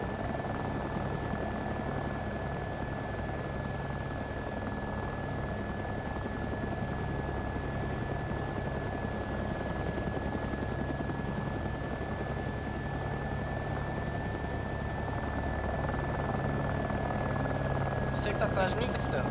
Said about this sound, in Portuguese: Você tá de helicóptero, Sueco?